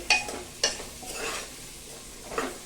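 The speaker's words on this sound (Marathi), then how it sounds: "ते पण छान परतून घेऊया बेदाणे आणि काजू" Cashews and raisins are sautéed in a pan for masale bhaat. A few stirring scrapes and faint sizzling come close by, with spaced spoon strokes and no talk.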